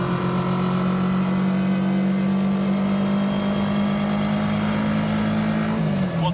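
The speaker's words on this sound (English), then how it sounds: "I love the sound of the motor. Motor is very healthy too." A 1986 Pulse Litestar's motor runs steadily at close range with a strong, even drone, rising slightly in pitch near the end as it picks up speed; no voices are heard.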